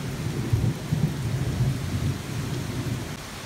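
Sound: heavy monsoon rain

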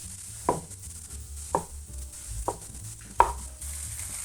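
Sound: chopping mushrooms into large pieces

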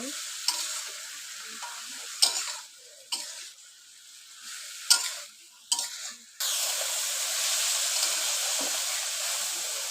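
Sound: small fish and eggplant frying and being stirred in a pan

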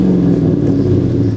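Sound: Mercedes-AMG car engine revving

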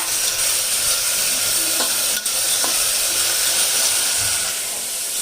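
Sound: tempering spices in oil for okra

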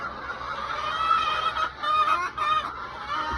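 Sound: chicks chirping while eating feed

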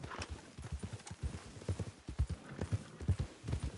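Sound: horses trotting in a video game

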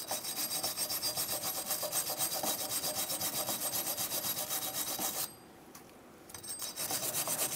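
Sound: air angle tool with mild abrasive cleaning corrosion off hub

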